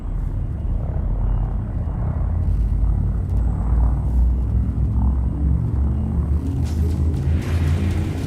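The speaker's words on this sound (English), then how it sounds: "Frameshift drive charging." Guardian frame shift drive charging aboard a ship in Elite Dangerous: a steady, loud low rumble that swells and holds throughout, with a brighter hiss rising near the end.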